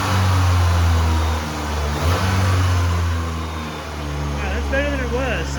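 Car engine running at an adjusted idle on an old vehicle being brought back to highway use, a loud steady close drone with a slight swell in revs, with faint squeaky tones near the end.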